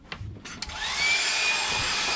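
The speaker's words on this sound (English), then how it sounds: "just getting the hairdryer on that so that I can make sure it's dry before I erase it" Hairdryer blowing on an ink drawing of cherry blossoms, spinning up after a few clicks and then holding a steady, close, loud whooshing drone.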